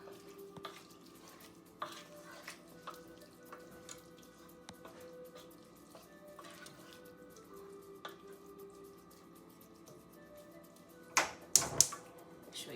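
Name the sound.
stirring paella rice in a pan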